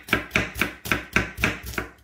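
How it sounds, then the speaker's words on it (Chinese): A knife slices an onion into thin strips on a cutting board. About eight crisp, evenly spaced chops land close by in a quick steady rhythm, with no talking. "我们洋葱首先先把它切丝"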